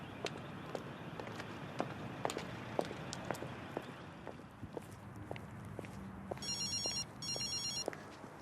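A telephone rings twice in short electronic bursts near the end, faint and distant, following scattered footsteps and light clicks over quiet background noise.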